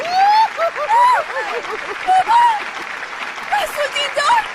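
A studio audience on a Persian-language TV show claps loudly for the guest Rasoul Dindar. The applause comes in bursts while people talk and cheer over it, and one excited shout rises above the crowd.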